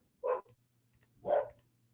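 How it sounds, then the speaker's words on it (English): A dog gives two short, gruff barks about a second apart, fairly faint against a quiet background. "God damn it, dog."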